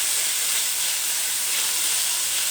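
Onions frying in a pan, a dense, continuous close sizzle and hiss that holds steady without pause.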